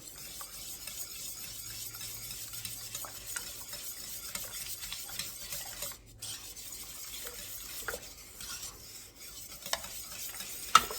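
A whisk scrapes and clinks around a pot, stirring dark brown sugar and cinnamon into steel cut oatmeal, a busy close rhythm of metal strokes over a low simmering hiss, with no talk.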